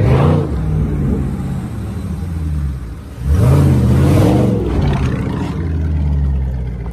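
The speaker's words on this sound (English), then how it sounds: "Rev it up! Rev it up!" A Dodge Charger Scat Pack's engine roars close by, revving up hard in a couple of loud surges before settling into a deep, rumbling idle.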